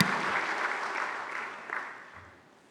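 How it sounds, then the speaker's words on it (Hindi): Audience at an annual convention applauding, a dense, steady wash of clapping that fades gradually toward the end, with no speech over it. "जोरदार तालियों के साथ पुनः अभिनंदन।"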